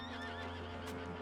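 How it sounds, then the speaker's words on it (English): A horse in Red Dead Redemption 2 gives a short whinny with light hoof clip-clops, fairly close over a low, steady hum. "G, calm the horse."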